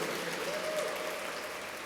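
Steady applause and cheering from an audience at a gymnastics hall of fame ceremony, a dense continuous clapping wash filling the room.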